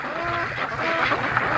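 Free-range ducks and geese on a lake quack and honk together in a steady overlapping chorus, close and fairly loud, with no talk.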